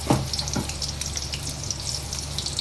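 Chopped onion dropped into a generous amount of hot oil for chow mein noodles, a steady close sizzle and crackle with a couple of soft knocks at the start, and no voices.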